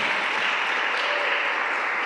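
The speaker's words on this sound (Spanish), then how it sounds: "Dale fuerte ese aplauso al Señor." A church congregation claps continuously during a service, a dense, even wash of applause heard at moderate distance with no pauses.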